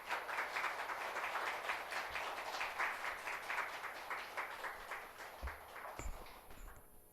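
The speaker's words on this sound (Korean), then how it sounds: "우리 목사님 맞이할 때 박수로 맞이하도록 하겠습니다." Applause from a church congregation welcoming a visiting pastor to the pulpit, a steady broadband patter of many hands clapping throughout, fading toward the end.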